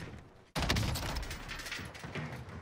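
Gunfire erupts in the Warzone video game: a sudden burst of rapid shots begins abruptly and continues as dense, rattling fire, fairly close and loud, with no talk over it.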